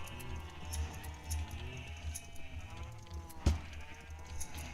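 Sheep bleat in Minecraft on a farm server, soft repeated calls over a low steady game background, with one sharp click near the end.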